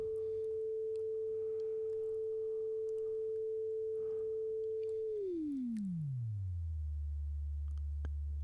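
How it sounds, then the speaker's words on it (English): A pure sine tone from a tone generator plugin holds a steady mid pitch for about five seconds, then glides smoothly down to a low hum and stays there, with nothing else alongside. "Change the frequency of the sine wave."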